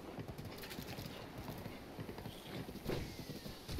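Rhythmic hoofbeats of a horse in the video game The Legend of Zelda: Breath of the Wild, clip-clopping along at a steady pace, fairly quiet and continuous, with no talking.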